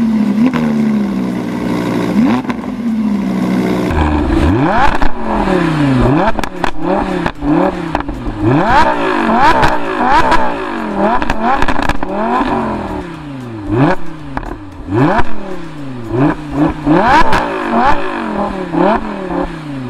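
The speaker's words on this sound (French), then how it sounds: "vous allez entendre juste après que le V10, il n'y a pas besoin d'échappement sport" Lamborghini Huracán LP-580 V10 engine accelerating hard through repeated gear changes, loud rising revs snapping back down at each shift in a steady sawtooth pattern, heard from inside the car with no talk.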